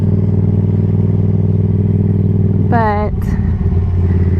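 A Yamaha XSR700 motorcycle under way gives a loud, steady engine drone close by, mixed with rushing wind noise, and someone speaks briefly near the end.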